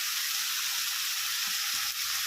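Ridge gourd sautéing in hot oil in a pan, a steady close hiss of sizzling with faint stirring scrapes, no talk.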